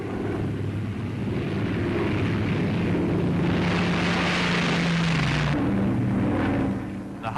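A Hawker Hurricane Mk IIC fighter aircraft drones past with a sustained propeller-engine roar, swelling in the middle and then dropping in pitch as it passes, loud and with no voices over it.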